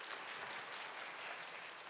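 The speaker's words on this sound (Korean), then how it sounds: "하나님께 감사의 박수 드리겠습니다" A church congregation of young adults gives applause of thanks to God during a Sunday worship service, a faint, steady wash of many hands clapping together.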